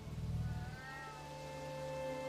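Cats in the RuneScape video game meow once in a steady, drawn-out electronic mew, clear and alone.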